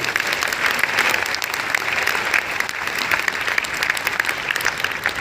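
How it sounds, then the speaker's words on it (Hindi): A crowd at an achiever's celebration event in Bhilwara breaks into loud, steady applause, many hands clapping densely and evenly throughout. "हम चाहेंगे उसकी कृपा के लिए ताली जोरदार वाली दीजिए।"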